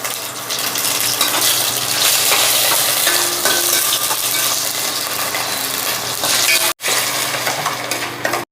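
Green chillies frying in hot oil in a pan while being stirred, giving a dense, steady sizzle with a brief break near the end and light scraping throughout, with no talking.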